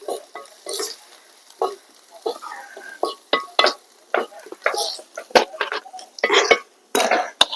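Onions, ginger garlic paste, green chillies and turmeric stirred in a hot pan, a close, lively run of scraping spoon strokes over a steady sizzle, the strokes coming in quick irregular bursts.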